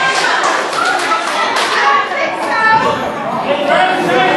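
A wrestling crowd at an independent show claps and chatters in a steady, dense wash of applause, with scattered thumps and cheers blending into continuous background noise.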